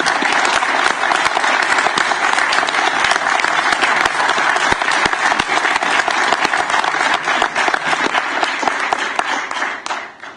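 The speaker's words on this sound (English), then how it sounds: "if you would all join with me in a round of applause for Will Kempton." Loud, sustained applause from a large crowd at a transportation commission meeting, dense and steady for about ten seconds before tapering off at the end.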